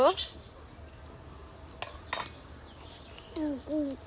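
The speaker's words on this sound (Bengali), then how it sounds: "সবজিগুলোকে ভালো করে একটু নেড়ে ছেড়ে নিব" Vegetables being stirred in a cooking pot for a chicken and vegetable curry, giving scattered metallic clinks and scrapes of a utensil against the pot, close by and fairly quiet, with a few louder knocks.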